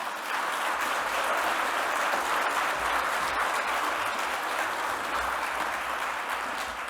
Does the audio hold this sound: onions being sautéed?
no